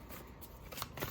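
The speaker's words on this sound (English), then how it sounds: "I'm live shuffling for you guys" Tarot deck being shuffled by hand, with a soft papery riffle and flutter building into brighter card snaps near the end of the brief, close-up burst.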